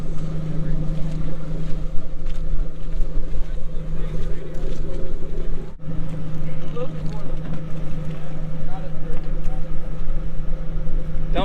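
A vehicle drives across salt flats with a steady, loud engine drone and road rumble, a brief dip midway, while people talk over it.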